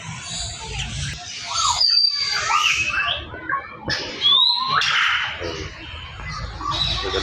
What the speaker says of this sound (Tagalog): lakas lakas ng huni